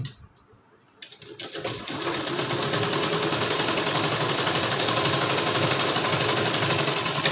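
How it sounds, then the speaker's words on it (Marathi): A sewing machine stitches a katori blouse along a marked shape, starting after a brief quiet moment with a few stuttering clicks, then running in a fast, steady, close mechanical whir. "इथपासून त्या सेपवर शिलाई देऊन घ्यायची"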